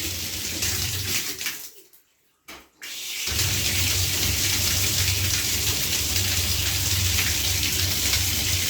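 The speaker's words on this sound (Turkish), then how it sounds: "Geldi mi su? Çok akıyor." Forceful water rushing out through a hose while a home heating radiator is flushed with mains pressure, loud and continuous, cutting out briefly for about a second before surging back steadily.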